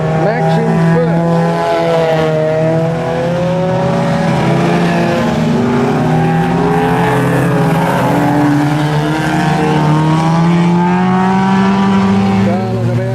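Speedway racing under lights, several engines roaring and revving loudly at close range in a continuous overlapping drone, pitch sweeping up and down as cars run the back straight, with commentary over it.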